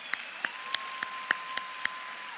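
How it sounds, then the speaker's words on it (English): At a school scholars recognition ceremony, a faint, sparse clapping comes through as about seven separate, evenly spaced claps over a quiet background, sounding distant in a large hall. "So give yourself a round of applause."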